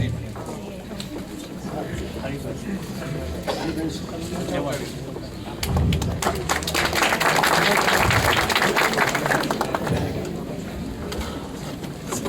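Audience applause at a felicitation ceremony honoring Manubhai Shah and Shalabh Kumar, a sustained mass of clapping that swells louder midway and continues under a murmur of voices.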